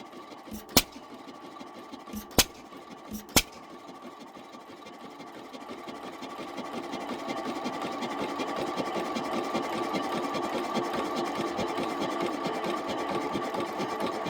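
An old 5 horsepower stationary engine at a flour mill gives a few sharp clicks, then catches and settles into a steady, fast, even chugging that grows louder and runs on alone.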